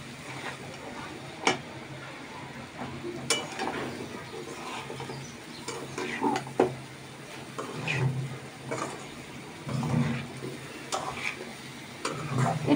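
Eggplant pieces go into a pan of browned spice paste for a dry shrimp curry with potato, giving scattered clatter, stirring scrapes and soft sizzling under a quiet, fairly steady cooking background.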